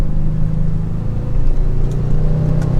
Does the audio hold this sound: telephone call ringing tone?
no